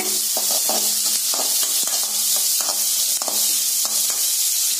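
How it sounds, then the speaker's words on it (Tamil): Shallots, mustard seeds and curry leaves sizzle steadily in hot oil for okra poriyal, a continuous close hiss with soft stirring clicks and scrapes throughout, no voices. "கருவேப்பிலைங்க அதையும் சேர்த்துட்டு நல்லா இந்த எண்ணெயில பொன்னிறமா வதக்கிக்கலாங்க."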